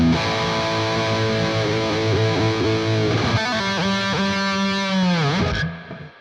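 Electric guitar run through the Amp 1 Mercury amp simulator in a DAW, a sustained, saturated tone with shifting held notes and bends, loud and continuous with no talking, ending in a brief fade.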